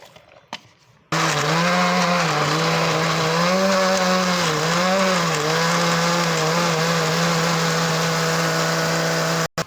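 A kitchen blender grinds ginger, garlic and spices into a paste for a beef kofta curry, a loud, steady motor whine with a wavering pitch that starts abruptly and runs for about eight seconds before cutting off.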